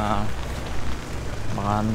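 Continuous heavy rain hisses steadily on surfaces during a prolonged spell of bad weather, with a person talking briefly at the start and end over the downpour.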